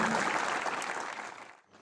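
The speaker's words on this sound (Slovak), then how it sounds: "ešte raz veľký potlesk pre víťaza" An audience at a doubles tennis final ceremony claps for the winners in a dense, steady burst. The applause fades out over about two seconds.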